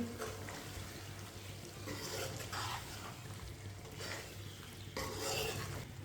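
A spoon stirs a pan of pea and cauliflower curry just after fresh coriander and garam masala go in, giving steady close scraping and soft sizzling with a low hum beneath and brighter bursts of mixing, with no talk.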